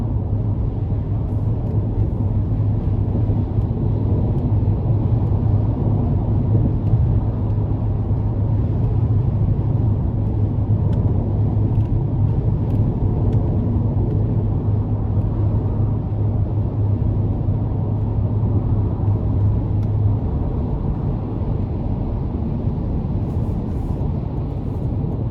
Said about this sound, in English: But a really good ride coming down the interstate.